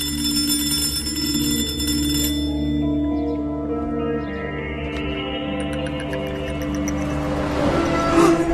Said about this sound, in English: The telephone then suddenly rings, with strange sounds being heard.